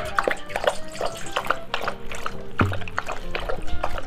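An Akita dog laps water, giving quick irregular wet splashes and trickles, close and fairly loud, with no talking.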